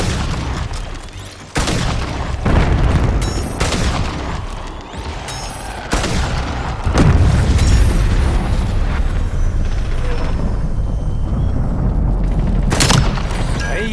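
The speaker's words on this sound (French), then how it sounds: "J'utilise un lance-roquette." Rocket launcher fire and explosions in a Call of Duty multiplayer match on the Nuketown map: repeated loud booming blasts, several sharp hits with rumbling tails, amid dense continuous gunfire and battle noise.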